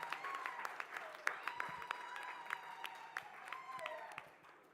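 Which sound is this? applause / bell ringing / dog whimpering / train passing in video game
applause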